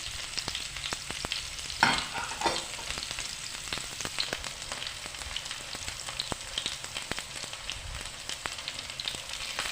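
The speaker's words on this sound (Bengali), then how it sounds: "আলুটা একটু ভাজা ভাজা হয়ে গেছে" Potatoes fry softly in oil in a pan for a vegetarian pea and potato dish, with a quiet continuous sizzle broken by scattered clicks and scrapes of stirring.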